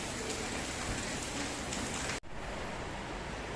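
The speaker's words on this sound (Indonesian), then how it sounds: "Sabar Malau, kita masih terjebak hujan." Steady heavy rain pours down at Masjid Al-Muhajirin, Perumnas 1 Bekasi, a dense constant hiss of drops on surfaces, broken by one brief gap near the end before the downpour resumes.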